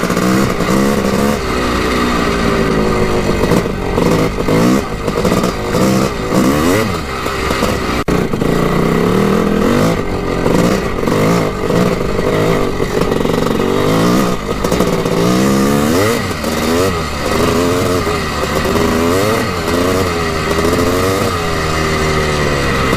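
A rare Honda CR 250 dirt bike engine riding on icy ground, its two-stroke motor loud and close, revving and blipping repeatedly in uneven bursts throughout.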